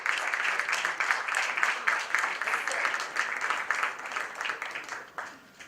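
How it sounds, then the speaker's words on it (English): An audience at a book launch applauds a speaker with loud, sustained clapping that fades toward the end. Brief bursts of individual claps stand out as the applause dies down. "A loud round of applause for Mr. Amitabh Bachchan."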